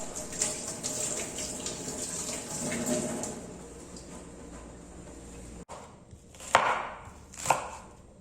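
Onion and Scotch bonnet peppers are rinsed under a running kitchen tap, a steady rushing hiss of water that cuts off abruptly, followed by a couple of sharp knocks and clatters.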